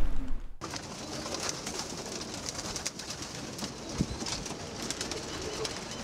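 Pigeons cooing at a Brooklyn coop, soft repeated coos over a busy outdoor bed of rustling and faint wing flaps, fairly close and continuous.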